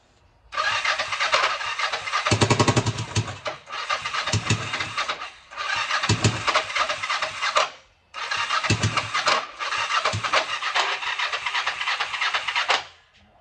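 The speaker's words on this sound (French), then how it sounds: "Accélère un peu parce qu'elle a besoin d'accélérer." A 500 Turbo engine with tired carburettors revs in several loud, sustained bursts separated by brief drops to near silence, close and harsh.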